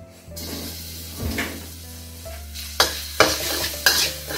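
Garlic stir-fried in leftover oil for a Medan-style bakcang filling crackles and sizzles in the pan, and three sharp scraping stirs with a utensil come close and loud near the end, with no voices.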